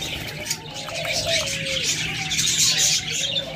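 A pair of pet birds and their chicks call from close by, with repeated chirps and short coos over a steady background hiss and low hum.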